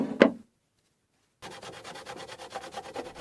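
A cloth soaked in alcohol scrubs old decal residue on a mini tabletop arcade cabinet. A single rough swipe is followed by a pause, then rapid, steady back-and-forth rubbing up close, with no talk.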